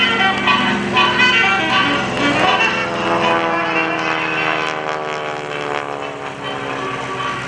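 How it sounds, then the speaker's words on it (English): A North American T-6 propeller airplane flying at an airshow, its radial engine droning steadily with a rich, harmonic buzz that holds loud throughout and eases slightly toward the end, with no voices over it. "Keep your eyes on Kevin Russo as he pulls up gracefully with the T6 and rolls it over into a quarter shoulder"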